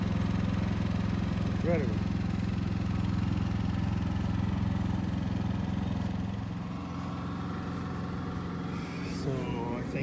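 The generator of a Thor Rize RV motorhome runs steadily at idle near its exhaust, a constant low engine hum heard up close while a person briefly speaks.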